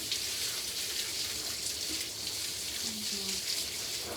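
Running water from a tap splashes steadily while rinsing a dog's hair during a bath, a continuous close hiss with brief faint murmurs of voice beneath it.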